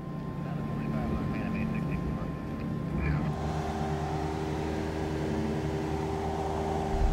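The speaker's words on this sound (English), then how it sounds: "as we come over the threshold of the runway, we straighten the aircraft out" A fixed-wing airliner crosses the runway threshold and straightens out for landing, its steady engine roar and cabin hum droning continuously and fairly loud, with a voice speaking over it.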